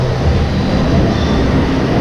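An LRT light rail train runs as a steady, loud rumbling roar, close and continuous throughout with no break.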